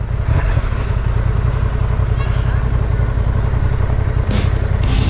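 A Triumph Tiger 800 motorcycle rides over gravel, its engine droning steadily up close as loose stones clatter and crunch beneath the tyres, with a brief burst of noise near the end.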